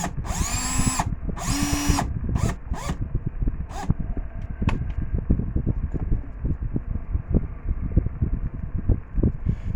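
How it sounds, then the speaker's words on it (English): A $100 two-speed Porter-Cable electric drill whirs in two short, high-pitched bursts, then quick clicks and rattling handling noise from up close, with no one speaking. "Now my drill's got 2 speeds, high and low."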